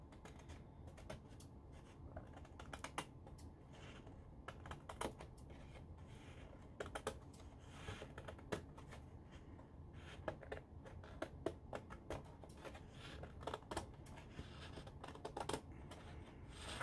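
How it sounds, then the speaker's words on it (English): Scissors snip through the cover of a paper planner in a quiet room, a run of short, faint, crisp cuts in uneven rhythm with no talking. "Let's take these scissors and trim this up a little bit."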